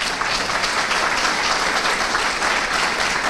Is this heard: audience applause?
yes